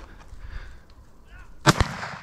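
A single hunting rifle shot cracks out loudly near the end, a sharp burst with a quick echo following, after quiet outdoor ambience with faint rustling.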